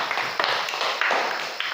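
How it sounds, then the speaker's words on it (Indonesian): Primary school pupils in a classroom clap together for a classmate, a short burst of dense, fairly close hand clapping that swells in a few quick surges. "Ya, tepuk tangan untuk Alei."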